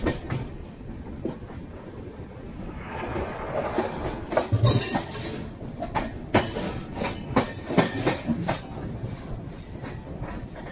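The 12107 Mumbai–Sitapur superfast express runs along the rails with a steady rumble, rhythmic clickety-clack of wheels over joints and scattered metallic clinks and squeals, loud and close.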